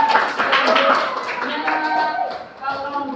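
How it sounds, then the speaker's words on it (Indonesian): Students in a classroom applaud a group after its presentation, a short burst of scattered clapping mixed with overlapping voices and chatter. "beri tepuk tangan"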